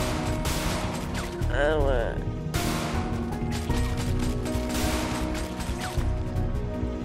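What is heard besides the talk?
gunshots in the video game GTA V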